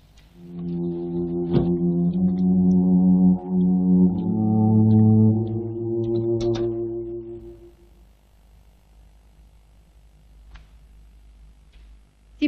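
A car horn blares in sustained, harmonic honks over a few seconds, loud and close, then fades to quiet background in a 1982 Indonesian film scene.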